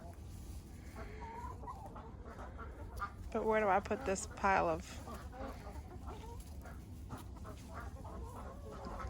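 Chickens cluck around a duck hut being cleaned out of straw and droppings for compost, their calls rising in a brief louder burst mid-clip, while a person talks throughout.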